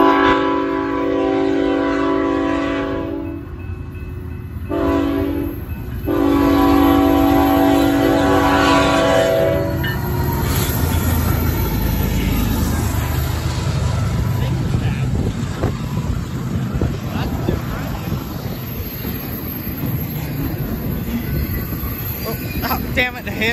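BNSF locomotive 3766 leads an eastbound train past the trackside, its horn blaring in long loud blasts at the start. The horn then gives way to a steady rumble and clatter of rail cars rolling by close at hand.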